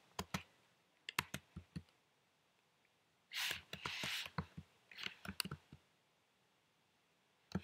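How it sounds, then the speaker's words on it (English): Bursts of quick computer keyboard keystrokes as a code is entered, with short clusters of clicks separated by pauses, close and fairly quiet. "Now I'm going to type in the code."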